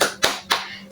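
Two sharp, evenly spaced hand claps from a class doing an Indonesian spirit clap, tepuk semangat, close and crisp with a third clap starting at the very end.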